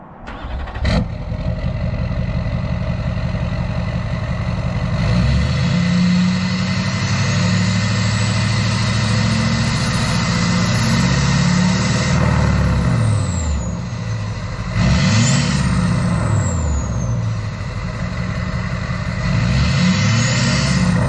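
An LBZ Duramax diesel engine in a dually truck idles loudly and close, with a steady rumble, a few revs rising and falling, and a whistling whine on top.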